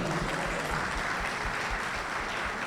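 A hall audience claps loudly and steadily in tribute at an Ugadi event. The dense applause holds at an even level throughout the short stretch, with no voices above it.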